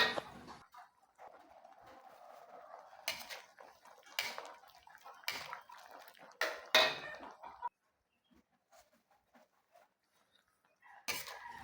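A spoon stirs moringa leaves into simmering coconut milk in a pot, which is also cooking eggplant and string beans. Close metallic scrapes and knocks against the pot come in bursts over a soft bubbling background, then go quiet.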